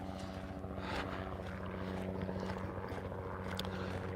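A tour helicopter passes overhead on a coastal walk in Callao Salvaje, a steady low rotor drone with engine hum holding at moderate level throughout, no voices.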